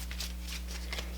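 Soft papery rustles and crinkles come from a paper note being folded over and tucked into a flap, in several quick close bursts over a steady low electrical hum.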